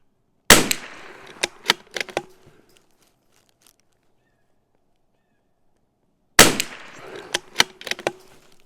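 Two sharp rifle shots from a CZ 457 rimfire, each a loud crack at the start of a burst followed by a few quicker ringing echoes or impacts, separated by several seconds of silence.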